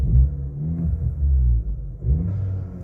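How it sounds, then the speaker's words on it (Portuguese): A used car's engine revs briefly at idle, a deep rumbling rise and fall close by, then a second lighter rev after a short dip, no talking. "Deu uma leve aceleradinha e um comportamento anormal"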